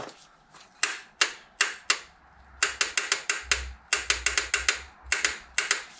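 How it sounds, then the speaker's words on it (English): A torque wrench set to 25 newton meters ratchets while tightening an oil filter on a Corsa C engine, producing a close, sharp series of rapid clicks in uneven bursts. "We've got our torque wrench set to 25 Newton meters"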